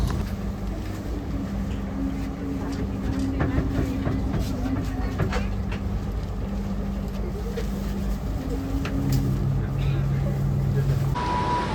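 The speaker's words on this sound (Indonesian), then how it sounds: "perjalanan kereta api Mutiara Selatan telah tiba di stasiun Solo Balapan" The Mutiara Selatan passenger train pulls into Solo Balapan station at night, a continuous loud rumble of rolling wheels and engine drone with steady low tones, ending in a sudden shift as it slows.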